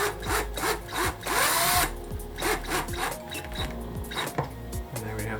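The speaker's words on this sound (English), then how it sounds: "So just use the magnetic tip of your drill to" A cordless drill drives a small screw into an Ikea LEDBERG lighting bracket in a games room, with short whirring bursts that rise and fall in pitch, repeated several times close up and interspersed with faint clicks.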